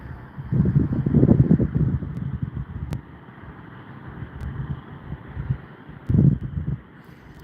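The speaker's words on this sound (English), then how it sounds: "I can hear the wind off in the distance." Distant wind gusts roar and rustle ahead of an approaching storm's gust front, swelling in two louder waves with a quieter stretch between, heard outdoors.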